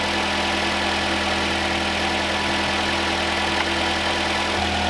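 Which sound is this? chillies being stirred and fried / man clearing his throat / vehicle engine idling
vehicle engine idling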